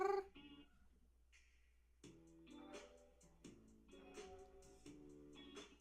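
A cat meows close by in a repeated series of wavering, tonal calls, some drawn out and some short, with a steady low hum underneath.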